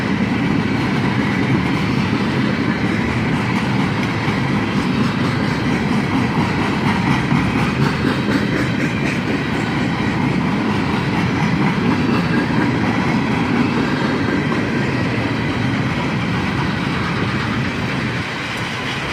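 A northbound freight train pulls out of a town siding during a four-train meet, its steady loud rumble and clickety-clack of wheels on rail joints running continuously and close by.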